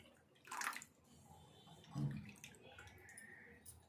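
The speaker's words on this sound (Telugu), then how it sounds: "ఇందులో పులుపుకు సరిపోయాన్ని నీళ్ళు పోసుకోవాలి" Water poured into a pot of pepper rasam makes two short splashing gushes, quiet and close.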